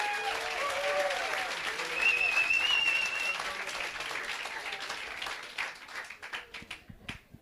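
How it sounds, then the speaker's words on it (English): A crowd at a schoolgirls' rowing regatta claps for the officials in a sustained, dense round of applause that thins into scattered claps at the end, with voices audible through it. "So a round of applause for the officials,"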